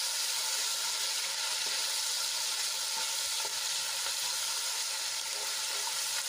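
A steady, bright sizzle of ginger, garlic and chili paste frying in hot oil hisses throughout, with faint occasional stirring clicks and no voices.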